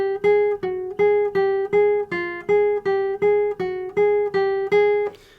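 Guitar left-hand finger independence exercise using all four fingers, played as a steady run of about eleven evenly spaced picked notes, close and clear with no talking.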